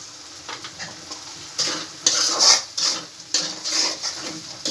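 Chicken pieces stirred with turmeric powder and salt in a cooking pot give repeated rough scraping strokes over a soft sizzle, close and steady.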